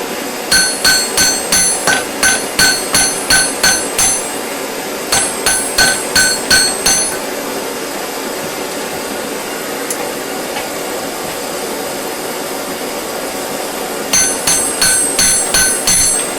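A hot old nail is hammered on an anvil to forge a decorative hook, with quick runs of ringing metallic blows, a pause of several seconds, then another burst of strikes.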